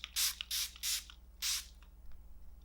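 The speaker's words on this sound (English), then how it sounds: "I am going to spray a little bit of my Chantecaille Pure Rose Water Mist" A Chantecaille Pure Rose Water Mist sprayed toward the face in four short, close hissing bursts, three in quick succession and a fourth after a brief pause, each a soft airy spritz.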